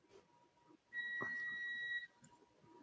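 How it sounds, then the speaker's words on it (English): A home coffee maker gives a single steady electronic beep lasting about a second, clear and fairly near against a quiet room. "No, that was actually my coffee maker."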